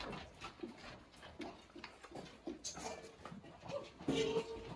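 Several dogs at feeding time in a bedroom whimper, pant and snuffle close by, with soft irregular whines and a louder whine near the end.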